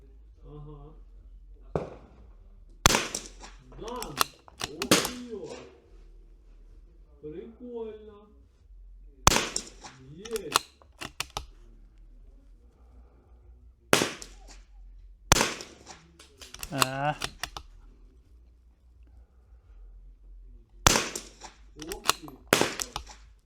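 Sharp gunshots crack out one at a time at targets, well spaced, each a loud burst standing out over people talking in between.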